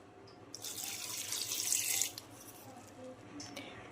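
Water pours from a tap into a pressure cooker holding ragda vegetables: a steady splashing gush for about a second and a half, then quiet with faint clinks.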